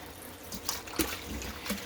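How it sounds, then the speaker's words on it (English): Raw chicken thighs rinsed under a running kitchen tap, a quiet, steady stream of water with a few soft splashes and clatters as the meat is handled. "we're going to pour that off, rinse it off"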